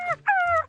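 A frightened dog whimpers in two short high-pitched whines, the second longer and drawn out, close by with no talking.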